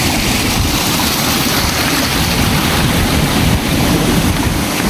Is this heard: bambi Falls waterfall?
yes